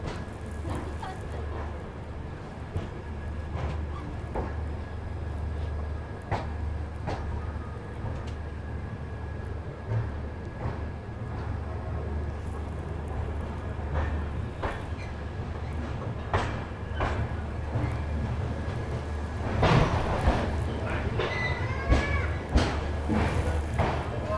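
Jaipur Delhi Double Decker Express running steadily, with a continuous rumble, rhythmic wheel thumps and clicks over rail joints, and a louder rattling stretch near the end.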